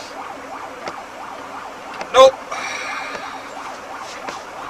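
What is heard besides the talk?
ambulance siren at intersection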